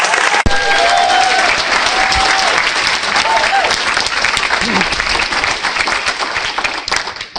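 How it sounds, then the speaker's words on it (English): Large audience at a property networking evening breaking into loud, sustained applause that continues steadily throughout, with a few voices faintly audible beneath it. "let's have a big round of applause for Simon Zutshi."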